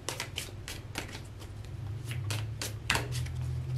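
Tarot cards are shuffled and drawn in a steady run of crisp riffles and slaps, close and fairly loud over a low background hum, with no voices.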